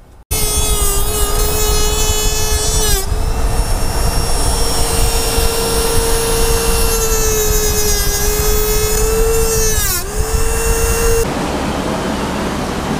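A power tool cuts a car bumper to fit it, giving a loud, continuous high-pitched whine with strong harmonics close by. The whine dips briefly twice and ends after about eleven seconds into a lower hum.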